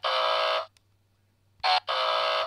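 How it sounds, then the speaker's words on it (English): Game show buzzer sounding in a loud, harsh, electronic blare, three bursts: one long, a pause, then a short burst followed by another long one, with no voices. "did Dennis take his buzzer with?"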